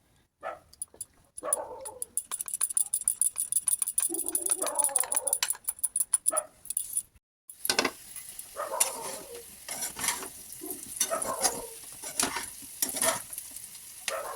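Potatoes deep-fry until crispy for chilli potato, a bubbling hiss of hot oil broken by rapid ticking and scraping stirs, with a brief pause midway before the frying resumes; a dog barks faintly in the background.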